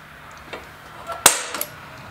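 A spring-loaded center punch snaps once against a steel plate being marked out for a welded blade sign hanger, a single sharp metallic crack with a few faint ticks around it, close by in a quiet room.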